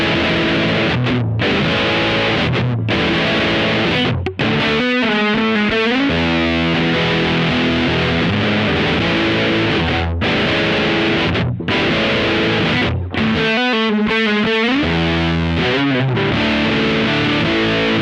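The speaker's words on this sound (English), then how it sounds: "So my second preset is actually the fuzz." Electric guitar through the fuzz preset of a Boss OD200, giving a scooped, muff-like tone: thick, saturated chords and riffs played loud and close, with brief pauses and ringing sustained notes.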